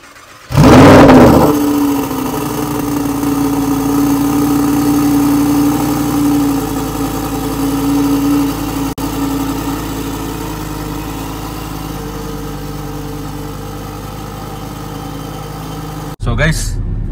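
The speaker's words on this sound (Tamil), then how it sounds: "சவுண்டு கேட்குறீங்களா?" An Abu Dhabi–registered Mercedes G-Wagon starts with a brief loud rev, then settles into a steady low idle rumble for most of the stretch, close by, with a short rise at the end.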